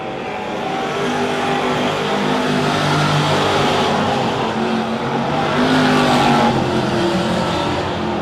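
IMCA Sport Modified race cars roar around Silver Dollar Speedway in a heat race, a loud, continuous engine drone that swells and fades as cars pass, with faint tire noise.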